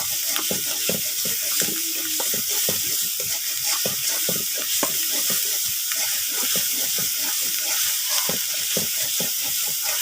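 Spice paste frying in a pan while being stirred, a continuous hiss of sizzling oil broken by rapid scraping and stirring strokes, close up with no voices.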